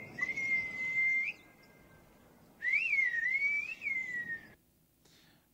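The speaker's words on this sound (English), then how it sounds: "this kind of whistling form of language arose in this environment" Long, melodic whistled language glides up and down in pitch, with two sustained phrases separated by a short pause, clear against faint background noise.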